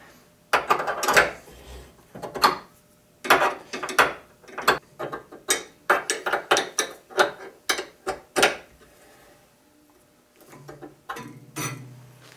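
A hand crank on a homemade bowstring-making rig turns in a run of loud, close ratcheting clicks and wooden knocks, irregular bursts tapering off near the end with a low creak.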